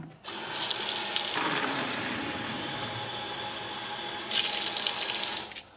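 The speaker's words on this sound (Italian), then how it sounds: "ci mettiamo un poco di acqua, usiamo solo l'acqua" Tap water pours steadily into a small ultrasonic cleaner tank, a loud continuous splashing rush with a brief softer stretch in the middle before the full flow returns.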